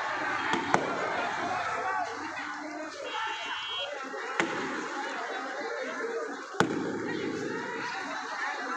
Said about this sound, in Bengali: এই যে গুলি নিক্ষেপ করছে।